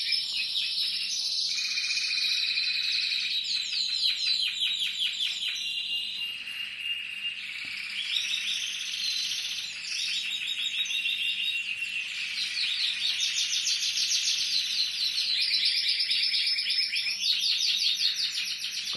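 Male songbirds sing continuously up close, with rapid high trills and chirps overlapping one another in a steady, busy chorus, with no talking.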